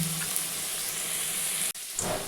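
Steady, loud sizzling of potatoes frying in hot oil in a kadai, with a brief cut-out near the end before the crackling resumes.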